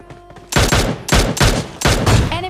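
Gunfire in the video game PUBG: several loud, close bursts of shots in quick succession, separated by brief pauses, with a faint tonal game sound before and after.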